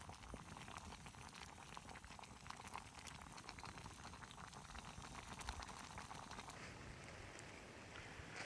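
A pot of water on the stove bubbles at a steady rolling boil while soup and beans cook, a soft continuous seething that stays faint and even, thinning slightly near the end.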